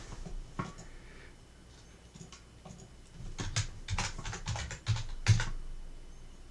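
Light, quick keystrokes on a computer keyboard while entering a name in CAM software, sparse at first then building into a denser run of taps, soft and close with no talking.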